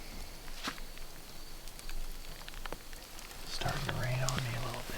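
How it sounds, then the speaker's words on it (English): Light rain patters softly outdoors on a hillside during a mule deer spot-and-stalk hunt, a faint steady hiss with a few scattered taps, while a low voice murmurs nearby. "Starting to rain on me a little bit"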